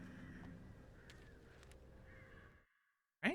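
Shadow birds from the game Alan Wake caw several times over a low rumbling backdrop, with sharp calls standing out before the sound fades to silence and ends in a brief loud burst.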